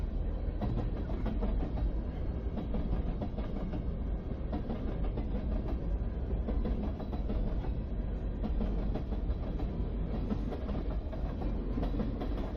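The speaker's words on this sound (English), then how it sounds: "our side camera will catch this freight train." A freight train on the Canadian National main line rumbling past with continuous heavy rolling noise and faint rhythmic clatter of wheels, steady and loud for the whole stretch.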